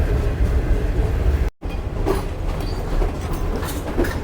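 The Shalimar Express passenger train runs on rails toward Faisalabad in a steady, loud rumble with clattering wheel beats, heard close from on board with no talk.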